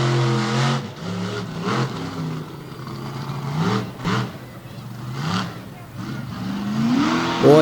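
The Bigfoot 18 monster truck engine revs hard through mud at a freestyle event in Lima, Ohio, with repeated rising and falling surges, loud and close, and an announcer talking over it.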